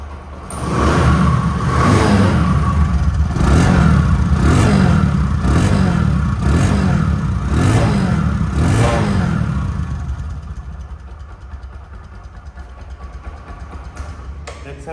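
A Bajaj Discover 100 motorcycle engine revs in a series of rhythmic bursts, then settles back to a steady idle, loud and close.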